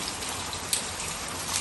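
Light morning rain falling outdoors, a steady soft patter of raindrops on surfaces, faint and even throughout the short stretch with no talking.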